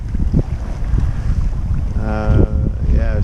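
A Twister sailboat under sail in 11 knots of wind: a steady rush of wind and water close to the microphone, with a brief tonal creak or whine rising near the end.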